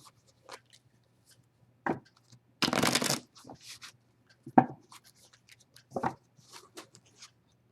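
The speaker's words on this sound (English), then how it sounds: "And then I will shuffle the cards once for every letter of your name" Large tarot cards are shuffled by hand in short bursts, with one longer riffling stretch and several quick taps and slaps in between, close and clear in a quiet room with no talking.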